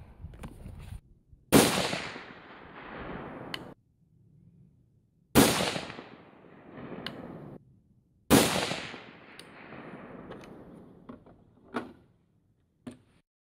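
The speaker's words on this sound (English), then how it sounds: "I'm gonna go ahead and reshoot a 3 shot group and see what happens" A rifle fires a three-shot group while being zeroed at 25 m. There are three sharp, loud reports, each with a decaying echo, spaced a few seconds apart, and faint clicks follow.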